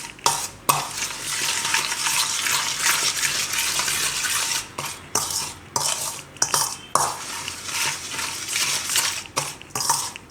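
Salt is stirred into flour for jeera puri, a spoon scraping and clattering against the bowl in a dense run of close, repeated strokes broken by brief pauses.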